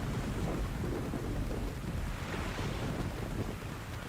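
Rain pours with rolling thunder in the video game Tropico 4, a steady loud storm wash filling the whole stretch without pause.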